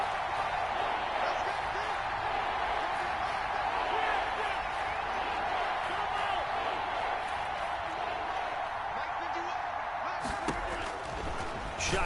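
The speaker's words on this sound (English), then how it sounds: "The crowd getting into it as we come up on a big 3rd down." Football stadium crowd cheering during a Packers game before a big third down, a dense sustained roar of many voices, loud and steady, with a few sharp claps or bangs near the end.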